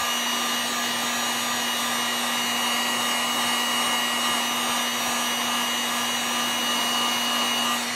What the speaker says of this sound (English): you need to go ahead and heat set your bait so that when you go to touch it, paint doesn't come off